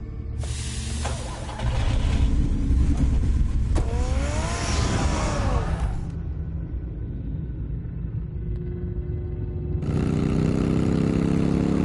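Batmobile engine in a Batman video game rumbling loud and close, surging and revving through a rising whine, easing back, then roaring up again near the end.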